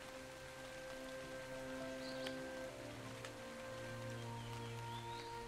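Steady rain in the video game Dark and Light patters continuously at moderate volume beneath a sustained tonal game ambience, with no voices.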